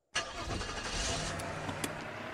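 A car engine cranks and catches in the Streamer Life Simulator game, then settles into a steady running rumble with a couple of brief clicks over about two seconds; no one talks.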